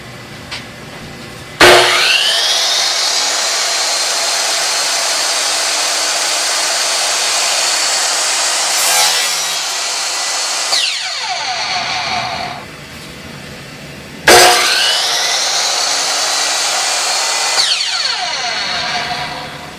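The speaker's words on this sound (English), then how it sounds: "now I'm just going to cut the 45-degree angles that will let me actually turn it into a frame" A power saw cuts 45-degree miter angles in wood for a picture frame: two loud cuts, each starting abruptly with a whining roar that carries on for several seconds before winding down.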